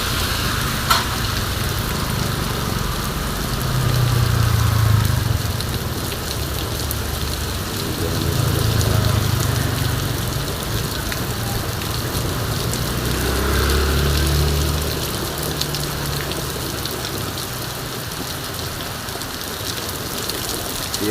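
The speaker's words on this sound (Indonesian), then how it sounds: "Siang hari dari pagi hujan besar." Heavy rain pours down in a dense, continuous hiss, with low rumbling swells rising and fading every few seconds beneath the downpour.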